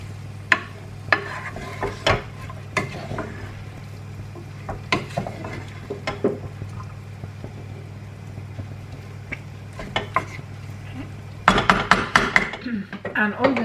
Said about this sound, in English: Gonna give it a good mix so all that blends in.